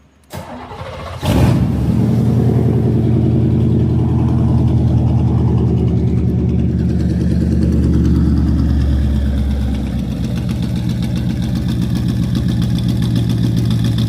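A Chevrolet C4 Corvette V8 with a homemade exhaust cranks and fires at once, then settles into a loud, steady, deep rumbling idle that eases slightly toward the end.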